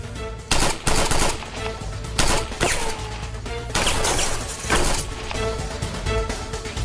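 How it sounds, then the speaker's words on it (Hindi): Rapid gunfire in a Turkish drama scene, loud bursts of machine-gun shots and single cracks repeating over several seconds, close and harsh with brief gaps between volleys. "प्लीज फायरिंग बंद करो ताकि हम लोग बात कर सके।"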